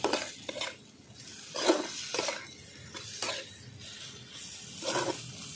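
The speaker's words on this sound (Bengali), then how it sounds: "ভেজে রাখা আলুগুলো দিয়ে ভালো করে আমি কষিয়ে নিচ্ছি আবার" Fried potatoes being sautéed in masala for a fish and cabbage curry, soft sizzling beneath intermittent scraping stirs of a spoon against the pot, fairly quiet and close.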